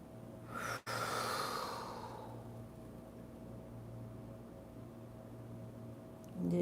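A single slow exhale during a kundalini yoga session, a soft breathy rush that fades out over a couple of seconds against a quiet room hum.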